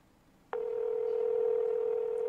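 A phone line clicks, then a steady dial tone sounds to call someone back, one sustained tone that holds unbroken to the end.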